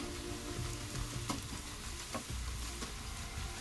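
Potato pieces frying in hot oil, a steady close sizzle and bubbling with occasional stirring clicks, constant throughout.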